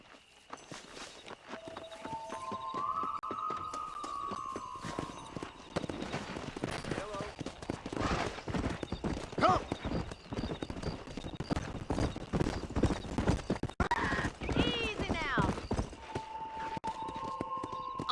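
Horse hooves clip-clop at a run in the Western video game Red Dead Redemption, with steady rhythmic hoofbeats under music and character dialogue, loud and close.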